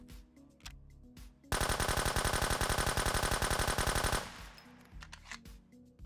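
M4 rifle firing in the survival shooter game Road to Vostok, a rapid full-auto burst of about three seconds with evenly spaced loud shots, framed by quieter footsteps and handling noise before and after.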